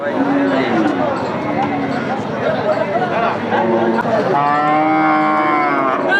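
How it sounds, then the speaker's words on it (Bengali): Bony cattle for sale at a livestock market low and moo repeatedly, loud and near, over steady crowd chatter and the murmur of people talking. "দেখতে পাচ্ছেন বিক্রয়যোগ্য হাড্ডিসার গরুগুলো"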